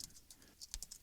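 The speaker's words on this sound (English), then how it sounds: "So I'll go ahead and type in Glenn 1993." Quick keystrokes on a computer keyboard, a handful of light, close clicks in an uneven rhythm, soft and alone.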